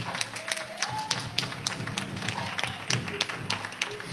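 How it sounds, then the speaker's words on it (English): A church congregation claps in a round of applause for a woman being honoured at a Sunday service, steady scattered hand claps in a crowd with some voices underneath. "I want y'all to give her a big round of applause"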